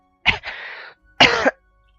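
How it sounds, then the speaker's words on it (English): A single close, loud cough made of two sharp harsh bursts about a second apart, the first trailing into a breathy rasp, alone in a quiet room. "it's so funny, it made me cough"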